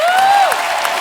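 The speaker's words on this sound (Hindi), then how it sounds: "अंकिता लोखंडे के लिए जोरदार ताली हो जाए।" Studio audience applause on The Kapil Sharma Show, a Hindi comedy show, a brief dense wash of clapping and crowd noise behind a fading tone, loud and steady throughout.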